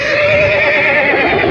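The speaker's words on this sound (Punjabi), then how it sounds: "ਛੋਟਾ ਜਿਹਾ ਇੱਕ ਘੋੜਾ" A small horse at a horse market in Gujrat gives one loud, close, sustained whinny lasting over a second, alone without talk.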